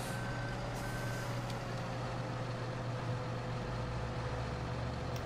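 A tractor in the Farming Simulator 2013 video game, on the Idaho map, backs up with a steady, repeating reverse beep over a constant low engine drone.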